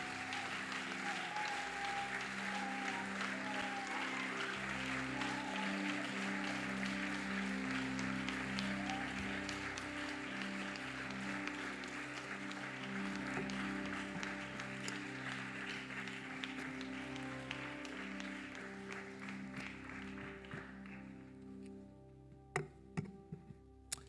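A church congregation at a Sunday praise and worship service applauds loudly and continuously for about twenty seconds, the dense clapping fading near the end into scattered claps and knocks.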